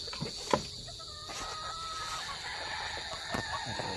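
A Paul Spark grey rooster clucks in short, scattered calls at middle distance, with a few sharp thumps and a steady high background hiss, no talk.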